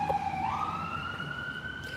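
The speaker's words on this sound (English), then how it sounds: "ambulances going by." Ambulance siren passing by, its wailing tone sweeping upward steadily and continuously over a low traffic rumble, fairly distant and without talk.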